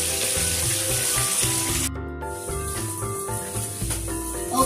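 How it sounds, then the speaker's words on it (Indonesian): Tofu frying in hot oil gives a steady, close sizzle and crackle through the whole stretch, with tonal background sounds beneath it and no one speaking. "jadi kita lanjut goreng tahu"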